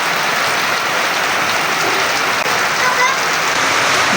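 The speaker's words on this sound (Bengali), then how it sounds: "বৃষ্টির সেই ছন্দ মাখা আওয়াজটা খুবই ভালো লাগছে" Steady rain hisses continuously throughout, a dense, even patter with no pauses, fairly loud and close.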